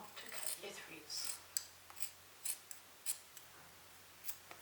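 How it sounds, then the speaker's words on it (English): Scissors snip threads on a fabric pull-string pencil case, a series of quick, light, close clicks spaced irregularly over a soft background hiss. "Being careful not to cut your threads."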